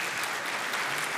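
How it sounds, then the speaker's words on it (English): A church congregation applauds its choir and orchestra in a short, even burst of many hands clapping, somewhat distant and soft, with no voices on top. "Give them one more round of applause there."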